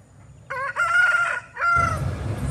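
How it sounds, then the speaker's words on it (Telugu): An aggressive fighting rooster bred for Sankranti cockfights gives one loud, close crow, then starts a second, with farm noise underneath. "ఇక్కడ కోళ్ళు అనేది చాలా రకాలు ఉన్నాయండి."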